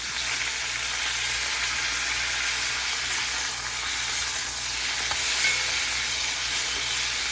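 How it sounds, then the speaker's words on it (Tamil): Chopped onion and tomato hit hot oil in a pan for an eggplant gravy, producing a continuous loud, even sizzle and hiss with faint stirring, no speech. "கூடவே இப்போ வெங்காயம், தக்காளி சேர்த்துடலாங்க."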